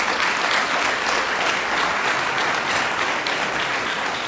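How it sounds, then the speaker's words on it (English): Gala audience applauding at a health organization's 50th anniversary, a continuous, even round of clapping from a large crowd. "that deserves a huge round of applause"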